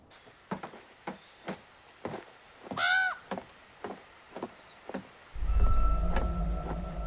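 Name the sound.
crow cawing in The Quarry video game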